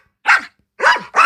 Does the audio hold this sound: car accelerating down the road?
no